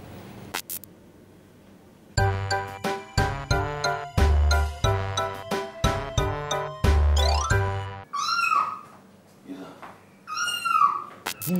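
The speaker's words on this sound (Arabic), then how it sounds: "صوت القطة الحقيقية دلوقتي." A recording of a real cat meowing is played back on an Egyptian TV prank show, with a string of loud repeated meows followed by drawn-out, rising and falling cries.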